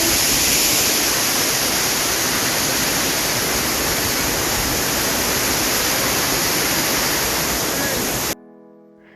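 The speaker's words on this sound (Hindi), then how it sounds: "Waterfall. Wow, so exciting now." Putudi waterfall in Phulbani, Odisha, a wide fall, roars as a loud continuous rush of broadband water noise close by, steady for about eight seconds before cutting off abruptly.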